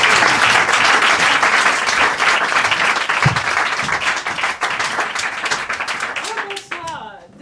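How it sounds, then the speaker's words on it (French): A theater audience claps and cheers loudly for a performer on stage in a steady, dense burst of applause that tapers at the end, with a voice briefly over it. "faites un maximum de bruit pour celle que vous avez déjà vue en début de soirée, Victoire Panouillet."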